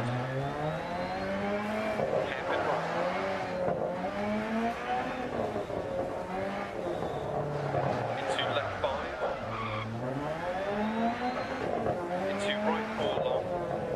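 A Group A rally car on a Monaco stage in the Dirt Rally video game, its engine rising and falling through repeated revs and gear changes while the tyres skid and scrabble continuously, fairly close, under a talking voice.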